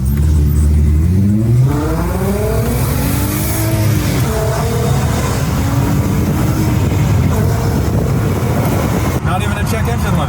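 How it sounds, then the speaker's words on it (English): A Nissan Skyline R32 with its factory exhaust revs hard and loud up close, engine pitch sweeping up through the gears, then settling into a sustained roar before a brief cut near the end. "the R32 is one of the best sounding factory exhaust cars"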